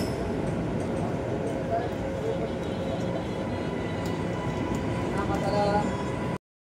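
Guntur–Aurangabad Express pulling out of Parbhani Junction, a steady rumbling drone of the moving train with rattling and faint tonal hums, continuous and fairly loud throughout before cutting off abruptly.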